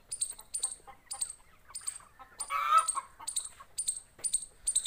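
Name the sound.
chickens on a small village poultry farm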